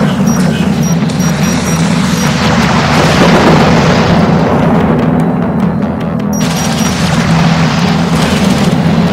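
Enemy railgun fire and explosions in the desert battles of Homeworld: Deserts of Kharak form a steady, heavy rumble of booms, swelling to a thicker burst partway through before settling back into the roar.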